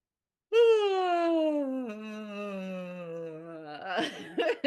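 A long, drawn-out exaggerated yawn with a falling, groaning voice, followed by a short breathy exhale and a brief rustle.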